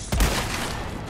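A single loud gunshot from Resident Evil 4 Remake, the Separate Ways DLC played on PS5, with a sharp blast followed by a ringing, reverberant tail and no voices.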